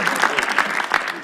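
A live audience at a stand-up comedy show breaks into loud, dense applause, a steady wash of many hands clapping close by without pause for the whole moment.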